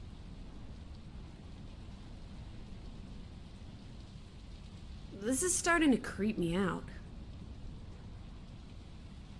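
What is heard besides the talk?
rain and thunder in video game Draugen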